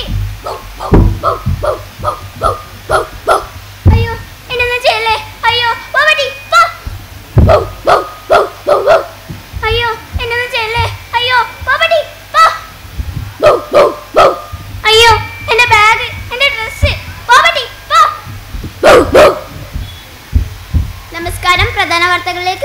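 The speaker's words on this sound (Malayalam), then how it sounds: "അതൊരു പട്ടിയുടെ കുരയല്ലേ കേൾക്കുന്നത്" A dog barks in a long series of sharp, loud bursts with short gaps between them, close by and insistent, during a school arts festival mono-act performance.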